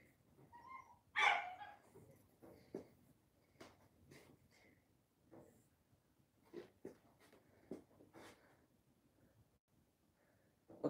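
A Chihuahua gives one sharp, high bark early on, followed by quieter scattered yips and small sounds, fairly close in a quiet room.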